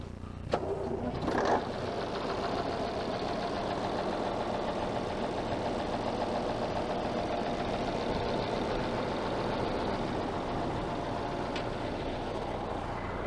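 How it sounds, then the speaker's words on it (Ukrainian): An engine on farm machinery, worked on during winter repairs, cranks with a brief starting burst. It then runs at a steady, rough, rattling idle close by for the rest of the clip. "Заводь, Вань, заводь."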